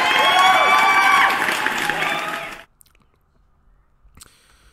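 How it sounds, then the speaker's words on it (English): A round of applause sound effect with crowd clapping and cheering, loud for a couple of seconds before fading out into near silence. "And let me give you a round of applause"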